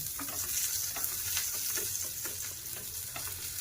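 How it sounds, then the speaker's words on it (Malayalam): Garlic frying in hot oil for a fish chutney, a continuous soft sizzle with occasional stirring clicks, close and steady with no voices. "നമുക്ക് ഇച്ചിരി വെളുത്തുള്ളി വേണം. അത് എണ്ണക്കകത്തിട്ട് മൂപ്പിക്കും."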